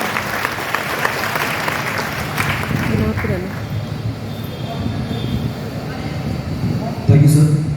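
An audience at a student and parent orientation session in Kota applauds to welcome a speaker to the stage, a steady loud wash of clapping from many hands that holds throughout.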